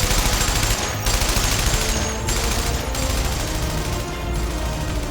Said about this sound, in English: Still firing bullets.